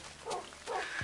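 Dogs bark and yip in a Minecraft game, two short bursts close together over a soft background hum, with no talk.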